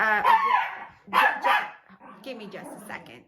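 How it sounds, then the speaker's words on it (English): A poodle barks at people on a roof, several sharp, close barks in short bursts mixed with a person talking over and between them. "The only way he won't bark at the people on the roof is if I hold him"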